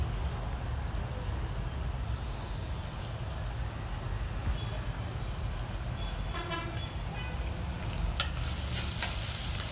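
Onion and garlic fry in a pan for a Nepali home-cooked dish, making a constant, fairly loud sizzle and crackle, with occasional light scrapes and taps of a spoon against the pan.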